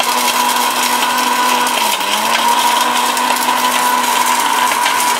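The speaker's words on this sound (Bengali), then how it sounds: "চাইলে আপনি পেস্ট মশলাও করতে পারবেন, ঠিক আছে? পাটায় বাটার মতো করতে পারবেন।" A Miyako electric curry cooker grinds spice paste with a loud, steady motor whine that holds an even pitch throughout, dipping briefly once as the load shifts, with no voices over it.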